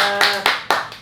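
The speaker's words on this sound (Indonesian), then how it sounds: "Boleh tepuk tangan untuk Elina." A short burst of clapping, three sharp swells of hands striking together over about a second, close and fairly loud.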